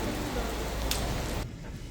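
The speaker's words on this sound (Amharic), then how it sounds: "አዲስ አበባ እንግዲህ ከባድ ዝናብ እየዘነበ ነው በነሐሴ ወር" Heavy August rain in Addis Ababa pours down as a dense, steady wash of noise, then drops abruptly to a softer, muffled hiss for the final half second.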